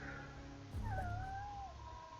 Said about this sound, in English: My cat's upset too.